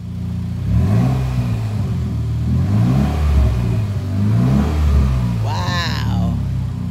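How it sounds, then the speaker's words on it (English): A Mitsubishi Evo 10 engine revs on voice command, a mid-pitched rumble running steadily for several seconds beneath someone talking, with a rising whine near the end. "Evo 10, rev the engine."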